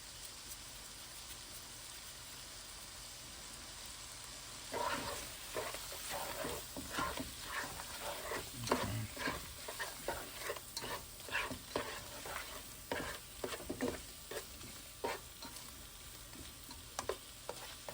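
Shrimp sizzle and crackle in a hot pan while being seasoned, with a soft steady fry and a run of quick stirring scrapes and taps through the middle, quiet and close.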